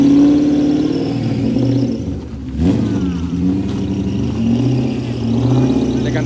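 A BMW E30 fitted with a V6 engine revs hard on a drift circuit, a loud sustained engine note that dips briefly mid-way and then climbs back to a strong, continuous roar.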